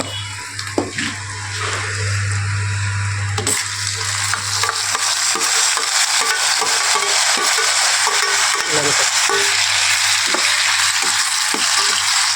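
Tomatoes frying in a pan with turmeric for a tomato curry cooked in a room, a continuous loud sizzle with scraping stir strokes and a low steady hum beneath.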